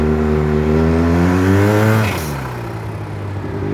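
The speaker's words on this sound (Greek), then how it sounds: "Γιατί κάνει πολύ θόρυβο το μηχανάκι, κάνει απίστευτο θόρυβο." A Yamaha TMax motor scooter engine, tuned with a turbo, revs hard with a steady rising whine, then drops in pitch as the throttle eases off; loud and close, no voices.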